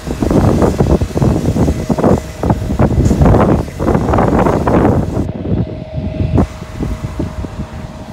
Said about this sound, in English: It's gotten really cool and it's really windy.